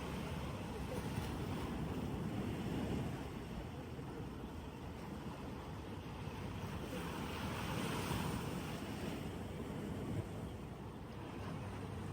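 Surf rolls onto Tai Long Wan beach in Hong Kong, a steady broad wash of waves with wind buffeting the microphone, continuous and moderately distant, with no clear voices.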